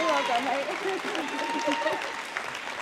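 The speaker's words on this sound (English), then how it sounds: "a round of applause for both our ladies in the 57s" Applause for two women lifters in the 57 kg class at a natural strongman world championships press conference, a steady moderate clatter of clapping from a small room with voices talking over it throughout.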